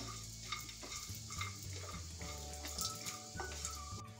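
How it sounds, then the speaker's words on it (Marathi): Cashew and almond pieces stirred in a little ghee in a pan over low heat, a steady close sizzle with scraping stirs, made while preparing carrot halwa. "सुका मेवा परतून घेऊ स्लो गॅसवर"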